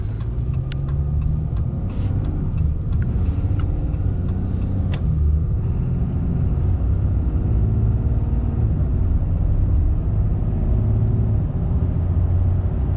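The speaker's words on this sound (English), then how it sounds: "We'll get a little acceleration here, see how this thing feels, especially compared to the 4th gens." A Cummins diesel truck accelerates with a deep steady rumble that climbs as the engine pulls through the gears, heard from inside the cab over the whole stretch, with a few faint clicks early on and no talking.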